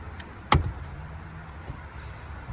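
A plastic interior trim panel on a 2014 Cadillac CTS-V is pried loose with one sharp, close snap, followed by faint handling noises in a quiet car cabin.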